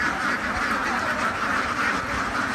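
Many CP ducks quack at once in a constant noisy chorus, like a crowded flock close by at a farm.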